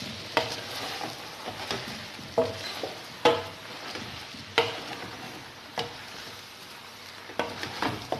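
Pasta is stirred into seasonings in a hot pan, a quiet sizzle broken by repeated scraping and knocking of the utensil against the pan every second or so.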